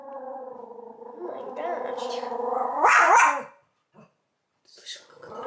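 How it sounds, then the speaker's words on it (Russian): A small dog barks and growls indoors, close and loud, with drawn-out vocal yelps that rise into a sharp burst before trailing off into a few brief quieter sounds. "Ты на кого так сильно гавкаешь?"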